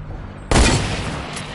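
Video game gunfire during a trickshot match: one sharp, loud burst kicks in abruptly, then a sustained wash of shooting and noise trails on behind it.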